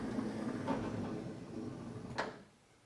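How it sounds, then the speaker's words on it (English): A Honda Odyssey minivan's sliding door opens, giving a rolling slide and a short clunk near the end, close by and moderately loud, followed by quiet. "So let's open this door."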